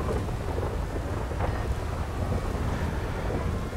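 Rain and rumbling thunder from a GTA Online open-wheel race, a steady, dense wash of falling rain with low rolling rumble throughout, loud and continuous with no speech.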